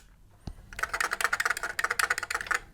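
Fingers type rapidly on an Atari 800 XL computer keyboard, a close, dense run of crisp clacking keystrokes following a single sharp knock.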